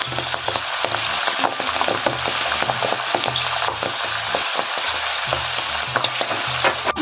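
Tempering ingredients sizzle steadily in hot oil for masala idli, a dense, continuous crackling fry close by with occasional sharper pops and a stirring texture, with no talking.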